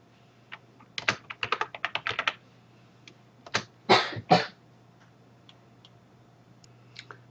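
Quick bursts of clicking keystrokes on a computer keyboard while entering text, an irregular rapid run of taps followed by a few scattered clicks, close and clear over a faint low hum.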